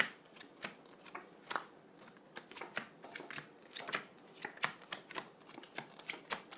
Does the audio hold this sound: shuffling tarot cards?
yes